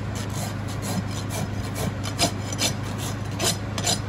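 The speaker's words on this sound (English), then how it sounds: "I'm gonna run my rasp down underneath the nails" A farrier's rasp filing a Percheron draft horse's hoof beneath the nails, producing close, rough rasping strokes in an uneven rhythm over a steady background hum.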